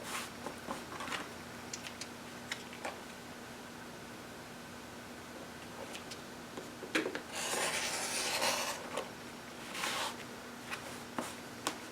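Rotary cutter trimming a paper pieced quilt block: a few short scraping, rasping cuts and slides, one longer sustained rasp near the middle, close and fairly quiet over a steady faint background hum.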